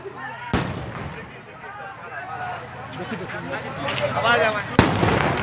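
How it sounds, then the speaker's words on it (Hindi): Bombs thrown and bursting during a riot near a mosque in Nalanda, Bihar: two sharp, loud blasts stand out over a continuous crowd din, with people shouting and talking throughout. "ये बम गिरा, बम पटक रहा है सर।"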